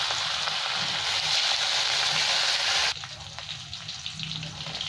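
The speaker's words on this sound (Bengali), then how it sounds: "এবার আমি রুই মাছগুলো ভেজে নেবো" Rohu fish pieces rubbed with salt and turmeric fry in hot oil, a loud, dense, close sizzle that drops abruptly to a softer crackle midway.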